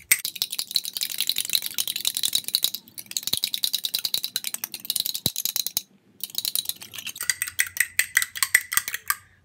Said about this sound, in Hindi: अब इन सब चीज़ों को मिक्स करेंगे। मैं यहाँ से फोर्क के साथ मिक्स करती हूँ।